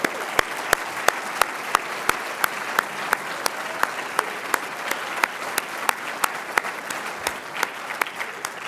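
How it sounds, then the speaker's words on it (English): An audience at a reception claps for an honoree, giving a moderate, steady round of applause in which sharp individual claps stand out clearly against the softer crowd clapping. "So another round of applause for you, Merritt."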